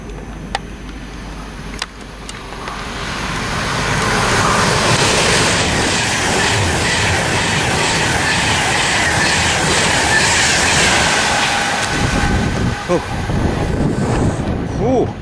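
A fast Pendolino train builds up and thunders past nearby at Cheddington Station, a sustained loud roar with rattling wheels and wind buffeting the microphone throughout.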